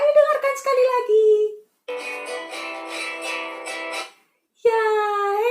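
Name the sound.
guitar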